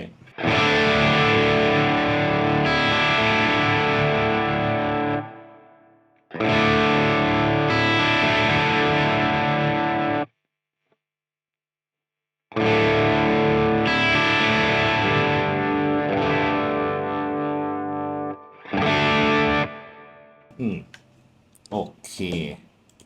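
Electric guitar strums sustained chords through distortion with a reverb tail, several loud ringing blocks separated by pauses and a few short muted scratches at the end.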